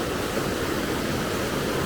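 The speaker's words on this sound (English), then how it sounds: "Listen, the roar of that water." Roaring water of the Derwent river, running high after part of the bank has washed away, a steady broadband rush that fills the whole stretch without pause and stays loud and close throughout.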